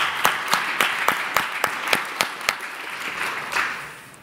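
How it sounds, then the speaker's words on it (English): Conference audience applauding a panel of speakers, starting with a few distinct, evenly spaced loud claps that blend into a softer scattered round of clapping before fading. "I'd ask that we get a nice round of applause for all of our panelists"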